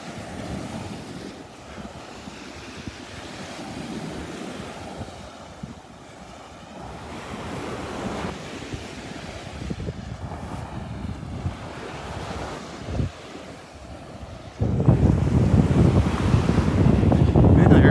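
Surf and gusting wind at the north end of Vanderbilt Beach, Florida, on a morning beach walk, with steady rolling waves and microphone wind noise that swells louder near the end.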